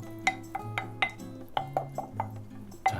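A utensil stirs squid ink pasta sauce ingredients in a bowl, giving a run of bright ringing clinks and taps against the dish, about ten strikes in a loose rhythm, close and clear with no speech.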